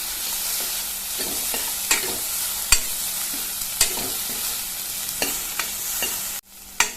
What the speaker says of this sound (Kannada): ಇದನ್ನು ಚೆನ್ನಾಗಿ ಫ್ರೈ ಆಗುವ ಹಾಗೆ ಹುರ್ಕೊಳ್ಳುವ